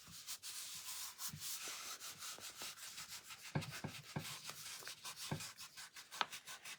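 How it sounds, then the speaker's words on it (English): Fingertips rubbing across a wooden knife block piece being painted in a harlequin pattern, a quiet, close series of soft brushing strokes in an uneven rhythm, with a few sharper scuffs. "I'm just rubbing it with my fingertips just to make a line of where I need to do my trimming"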